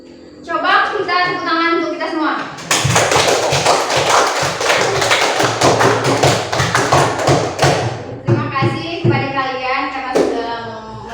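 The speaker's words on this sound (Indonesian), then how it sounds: "Coba kita tepuk tangan untuk kita semua." A classroom of children claps hands together in a loud, dense burst of rapid claps lasting several seconds, framed by a teacher speaking before and after.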